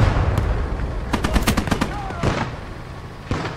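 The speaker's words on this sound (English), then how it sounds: "The infantry gun's getting shots off." An infantry gun and small arms fire on a World War II Eastern Front battlefield in Gates of Hell Ostfront: a volley of sharp, loud cracks in quick succession, with a few scattered shots trailing off afterwards.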